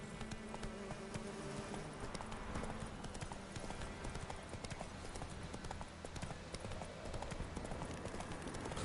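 Horse hooves clip-clop steadily on the ground in the video game Witcher 3, a continuous even rhythm of close, moderately quiet hoofbeats with a faint insect-like buzz in the background.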